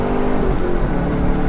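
A Lamborghini Countach replica launching hard from a standstill, its engine roaring in a dense continuous rising growl, close and loud throughout, with no talking.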